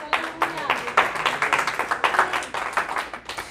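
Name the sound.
congregation applause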